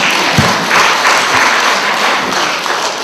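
An audience clapping in a continuous, fairly loud round of applause lasting a few seconds, with no pauses.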